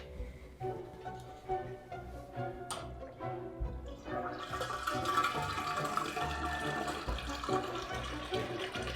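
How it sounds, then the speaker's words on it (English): Liquid, a couple of liters of beer wort, pours steadily into an Erlenmeyer flask for a yeast starter, a continuous close gurgling splash that swells in the second half. "now I will pour a couple of liters into this and put it on my magnetic stirrer"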